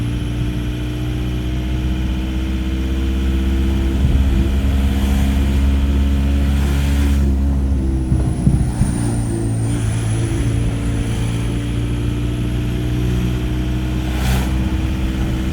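A swapped-in VW TDI diesel engine revs flat out in second gear with a loud, sustained, steady drone heard from inside the car, its pitch shifting slightly partway through with a faint whine on top.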